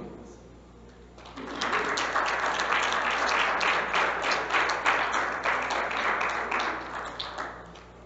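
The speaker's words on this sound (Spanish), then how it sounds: "Denle un aplauso a Dios." After a quiet second, a church congregation breaks into sustained, lively applause with crisp overlapping claps that swell, hold, then ease slightly toward the end.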